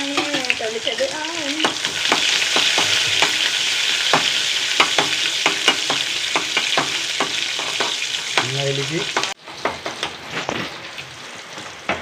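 Small shallots with chopped pepper sizzle in hot oil in a pan while a spoon stirs them, a loud, close, steady frying hiss broken by repeated scraping strokes, then a quieter patch with a few more stirs.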